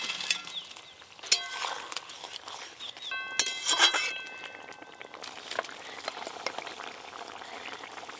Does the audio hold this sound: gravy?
yes